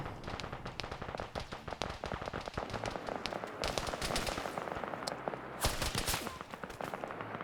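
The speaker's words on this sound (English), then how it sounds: "Some rounds landing into them." Gunfire rounds land on targets in the video game Arma 3, a dense, continuous crackle of rapid sharp impacts and shots with a few louder bursts toward the end.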